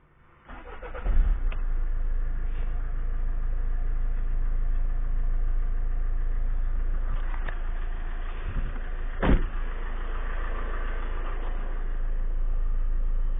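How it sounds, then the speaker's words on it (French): A Citroën C5 engine cranks and catches after a radiator bleed, then settles into a steady low idle, with a couple of brief clicks or knocks partway through. "Maintenant, on redémarre le moteur."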